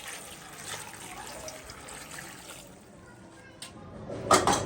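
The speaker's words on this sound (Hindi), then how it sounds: "अब डालते हैं पानी, तकरीबन 2 गिलास डालूंगी।" About two glasses of water are poured into a pot of turnip and meat curry, a soft continuous trickle and splash that swells briefly near the end.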